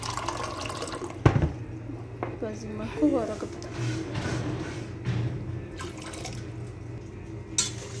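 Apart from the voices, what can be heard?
cold water being poured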